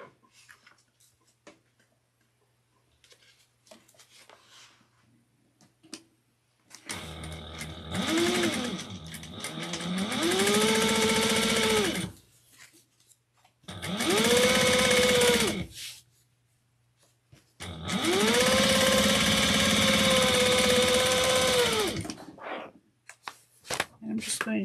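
A sewing machine stitches the interior pieces of a sewn item together at a half-inch seam allowance, running in three loud bursts of steady whirring separated by short pauses, with no talk over it.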